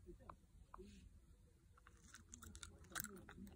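A dog crunches a crunchy nut cornflake with a tablet on it, giving faint, brief crisp bites in a quiet room, with a few louder crunches near the end and light talk alongside.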